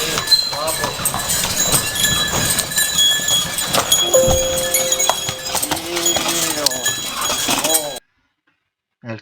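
Horse hooves clip-clop along the Camino de Santiago's Ruta de la Lana, a steady rhythmic clatter running beneath continuous conversation before the clip drops to near silence.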